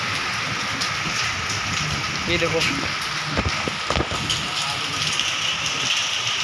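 Rain falls steadily outdoors as a continuous hiss of drops on surfaces, with a few sharper knocks and someone speaking briefly over it.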